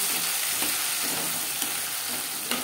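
Panch phoron and bay leaf crackle and fry in hot oil, a steady dense sizzle with a few faint stirring clicks, close and continuous with no talking.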